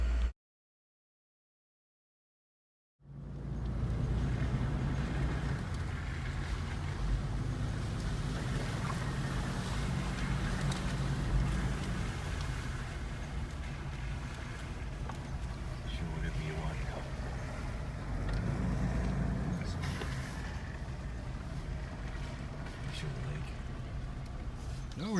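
Car driving out to a secluded cabin, a steady low rumble of engine and road noise starting after a few seconds of silence and continuing loud and even, with a voice talking over it.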